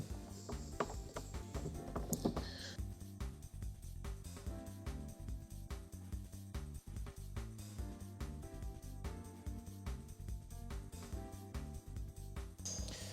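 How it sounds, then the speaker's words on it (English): Screws are driven in during an old car restoration, making a steady, fairly faint mechanical ratcheting with a regular rhythm. Sharper clacks sound near the start, and no one speaks. "They even have the little screw holes and everything here for these screws. So we'll just screw this in."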